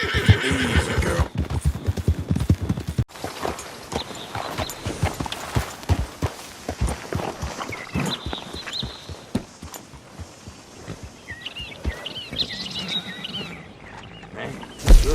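A Red Chestnut Arabian horse whinnies and snorts over steady clip-clopping hooves in Red Dead, close and fairly loud, with a few high chirps near the end.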